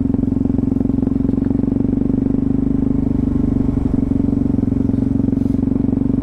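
A scooter engine drones steadily up close with an even, buzzing putter and light clatter, holding a constant pitch throughout with no speech over it.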